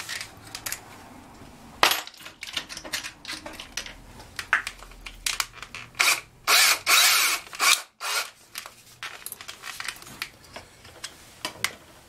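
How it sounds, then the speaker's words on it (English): Short bursts of a power drill whirring, several spaced spurts of a few seconds each, close by, with handling clatter between them. "I need to now drill, start a hole there."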